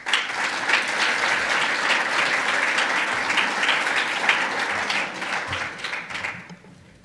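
An audience applauds to welcome speaker Remzi Cej at a lecture on the Kosovar refugee diaspora, with steady, full clapping from a crowd that fades out at the end.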